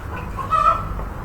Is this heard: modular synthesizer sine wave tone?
no